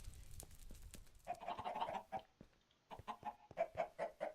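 Chickens cluck in short repeated bursts, soft and fairly close, with a quiet pause partway through before the clucking picks up again.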